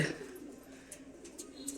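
Racing pigeons coo softly at the loft after a 20 km toss race, a low steady murmur with a few faint higher chirps over a light background hum.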